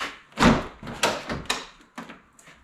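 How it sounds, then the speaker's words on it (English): Plastic door panel lifted and pulled off the inside of a 1999-2007 Chevy/GMC pickup door: a series of close hollow clunks and thumps with rattling scrapes, the loudest near the start and smaller knocks after. "we should just be able to lift our door panel up and it'll come off"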